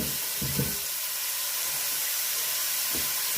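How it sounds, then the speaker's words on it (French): Meat sears on high heat in a hot pan for poulet bourguignon, a continuous loud hiss and sizzle with a couple of low thumps of pieces moving, and no voices. "Et on va cuire la viande, on va la saisir."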